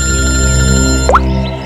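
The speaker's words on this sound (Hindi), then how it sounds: "पूर्वी का फोन है।" A loud, sustained electronic ringtone with a rich buzzy tone, ending in a short rising chirp.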